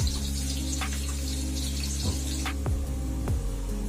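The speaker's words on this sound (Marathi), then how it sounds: "कांदा पण आपला चांगला शिजून घेऊया आता आपण।" Chopped onion frying in a pan with garam masala, a continuous close hiss and sizzle with occasional scraping or stirring clicks, no talking.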